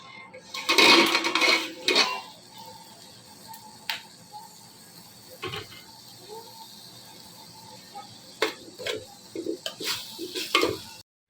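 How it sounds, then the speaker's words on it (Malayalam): Tomatoes sautéing in masala for mutton dum biryani, a low sizzle with scattered stirring clatters and scrapes against the pan, a louder burst of stirring near the start. "ഇനിയിപ്പോൾ തക്കാളി നന്നായിട്ടൊന്ന് വഴന്നു വരട്ടെ വെന്ത് ഉടഞ്ഞു വരണം"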